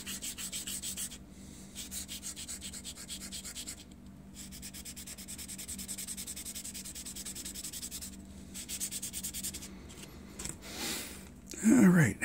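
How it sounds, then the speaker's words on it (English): Rough rubbing strokes from sanding a Titanic wreck diorama model repeat in short bursts with brief pauses, close and moderately quiet, with a louder scrape near the end. "I'm going to do a little bit more sanding"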